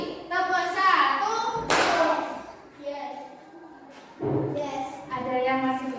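Children in a classroom doing a counting clap routine, with short bursts of hand claps mixed among lively kids' chanting voices, fairly close.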